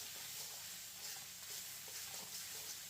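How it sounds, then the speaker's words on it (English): Oyster sauce being stirred into egg fried rice in a pan: a steady, continuous scraping and soft sizzle with light rhythmic shuffling of the rice, close by, with no voices. "So I'm going to stir that in, make sure all the rice is coated."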